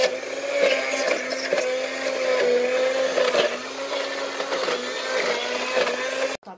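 A kitchen blender whirs steadily at a high motor pitch, loud and close, with slight wavering as contents churn, then cuts off abruptly near the end.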